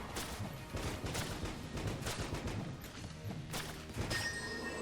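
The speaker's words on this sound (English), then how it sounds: "since it fires explosive shots, it's occasionally destroying shots for me" Explosive rounds fire from a gun in the video game Enter the Gungeon, a dense, continuous barrage of sharp bursts and crashing blasts throughout, loud and busy.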